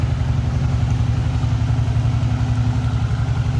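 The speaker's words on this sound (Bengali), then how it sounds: "সেই নদীর মধ্যে দিয়ে কিন্তু এরকম ছোট থেকে বড় ট্রলার এমনকি স্পিড বোট চলাচল করে" Steady low engine chug of a small-to-large trawler or speed boat on a river through a forest, a continuous rhythmic throb running unbroken and fairly close throughout.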